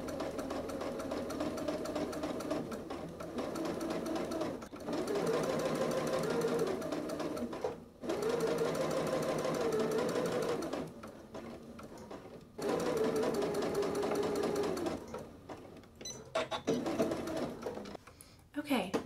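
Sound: sewing machine stitching bias tape onto a seam allowance

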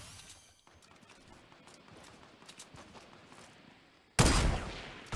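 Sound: gunfire in a video game

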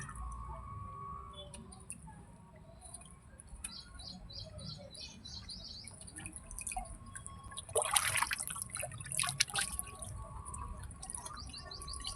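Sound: water dripping while bathing a pigeon

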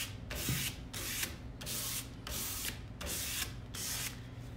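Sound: sanding to distress edges of painted furniture

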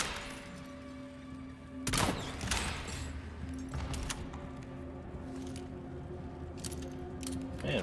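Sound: gunshots in video game Resident Evil 4 Remake

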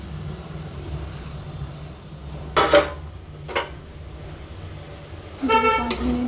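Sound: spoon stirring soya chunks with spices in a pan

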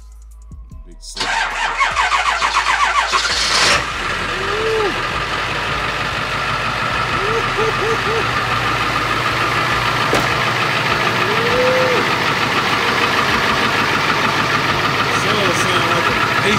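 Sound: Ford F-250 Super Duty truck engine starting and idling

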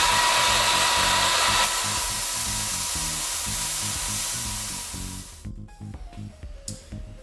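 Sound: belt sander with coarse belt blending steel taper

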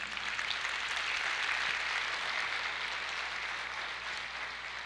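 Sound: applause in church

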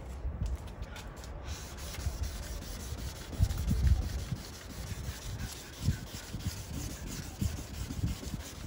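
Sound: sanding a yellowed headlight with 600 grit sandpaper

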